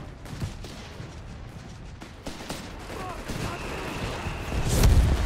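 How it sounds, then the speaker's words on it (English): Gunfire directed at a British 6-pounder anti-tank gun in Company of Heroes 3, a busy battle soundscape of scattered shots and impacts that swells into a louder burst near the end. "6 pounder gun here getting shot at"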